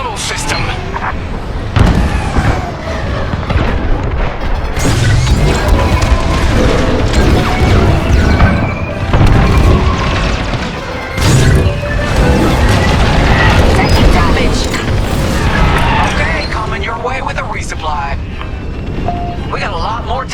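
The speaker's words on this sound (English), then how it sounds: "Our Corvette is taking heavy fire" Dense space combat in Star Wars: Squadrons as a Corvette takes heavy fire, with repeated booms, crashing blasts and roaring engines layered throughout, loud and continuous, and voices shouting over the battle.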